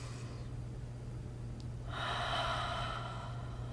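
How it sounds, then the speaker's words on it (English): Deep, slow inhale during a yoga breathing exercise for a hip-opening pose, a soft airy breath swelling over about two seconds, close and alone above a steady low hum. "we're gonna inhale"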